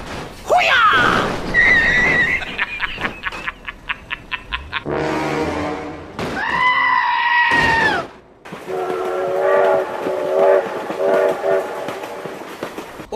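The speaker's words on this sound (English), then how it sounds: "Oh my god, train!" Train in a 3D animated cartoon about animals, with loud horn blasts, a rapid clatter of wheels and a long sustained whistle, mixed with a horse-like whinny and excited animated voices.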